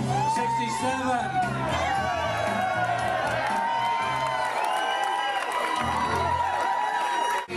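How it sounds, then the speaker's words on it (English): A crowd at a San Jose High reunion event cheers, whoops and applauds for the class of 1969, a dense, continuous roar of shouts and claps with voices mixed in throughout. "Round of applause for class of 69."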